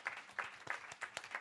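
A small group at a cooperative meeting claps, a faint, distant run of separate claps in a loose, roughly even rhythm.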